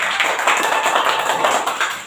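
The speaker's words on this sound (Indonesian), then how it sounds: "Coba tepuk tangan dulu semua lainnya." A school class claps hands together in a classroom, a brief burst of dense, close clapping lasting about two seconds.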